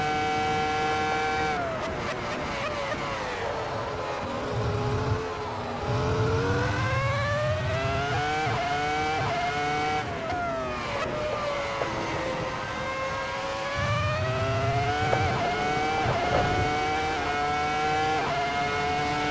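A Ferrari F2004 Formula One car in the Assetto racing game heard onboard at the Nurburgring, its high-pitched engine screaming through repeated upshifts and downshifts, rising and falling revs with no talking.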